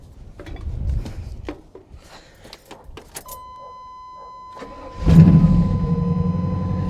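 A lightning-struck Chevrolet Silverado pickup truck's engine cranks and starts after a few keys jangle and clicks, then settles into a loud, steady close idle.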